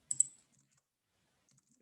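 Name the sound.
computer mouse double click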